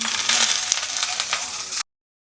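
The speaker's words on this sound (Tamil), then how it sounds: "தாளிப்பு பண்ணிடலாம்." Spices for a sambar tempering crackle and sizzle in hot oil, a dense, close frying hiss with light stirring clatter that stops abruptly after about two seconds.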